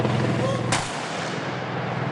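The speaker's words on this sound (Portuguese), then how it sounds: "e uma salva de tiros." A single sharp gunfire blast from a military gun salute volley at a funeral cracks out amid steady low rumbling background noise, followed by a fading echo.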